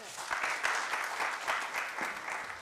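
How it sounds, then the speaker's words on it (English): Conference audience applauding to welcome a professor onto the stage, a dense steady wash of clapping from many hands in a hall, holding evenly throughout. "In your claps, I would like to invite Professor Hassan Iqbal on stage."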